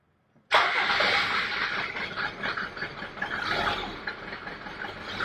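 A Mercedes 190 with a 2.2 diesel engine and five-speed manual catches on a cold start after sitting about a month, bursting abruptly into a loud, rough, clattering idle that wavers unevenly without settling.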